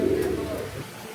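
A pair of paper-white pigeons cooing close by in a short burst that fades within about a second.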